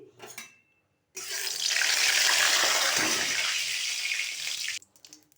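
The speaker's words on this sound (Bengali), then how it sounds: "খুন্তিটাতে একটু জল ছিল তাই ছিটা পড়লো।" Water on a spatula hits hot oil in a wok and bursts into a loud, close hissing spatter lasting a few seconds before cutting off abruptly, with no talk.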